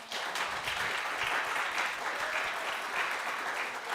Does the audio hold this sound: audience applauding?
yes